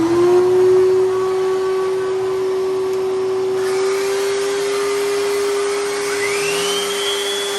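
A shop vac hooked to the dust port of a sander runs steadily in a workshop, a loud continuous motor whine holding one pitch, with a second tone rising near the end as the load shifts.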